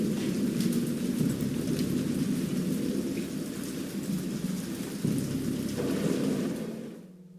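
Heavy rain pours steadily with rolling thunder in a stormy scene from the horror game Dagon, loud and continuous for several seconds before cutting off abruptly.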